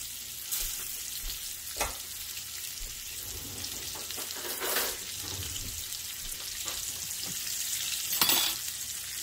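Potatoes with turmeric fry in a pan for a samosa filling, a steady close sizzle broken by scraping stirs and occasional clinks as they are mixed, with no talking.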